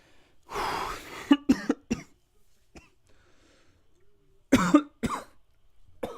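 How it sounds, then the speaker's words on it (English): A person coughs several times close to the microphone in two separate bursts, with quiet breathing and stillness between them. "I'm trying to cough in the mic"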